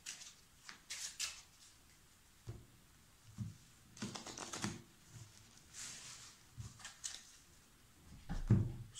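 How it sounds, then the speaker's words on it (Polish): A deck of playing cards being shuffled by hand during a simple card trick, with several brisk riffling bursts separated by pauses, close and fairly quiet. "Ktoś tasuje karty."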